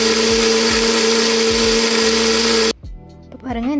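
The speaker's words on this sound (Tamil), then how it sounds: "இஞ்சி பூண்டு தக்காளி வெங்காயத்தை மிக்ஸி ஜாரில் போட்டு நல்லா பேஸ்ட்டாக அரைச்சிக்கலாம் வாங்க" A mixer grinder blends ginger, garlic, tomato and onion into paste in a mixie jar, a loud steady motor whine with low thumping pulses that cuts off abruptly, followed briefly by quiet and a voice speaking.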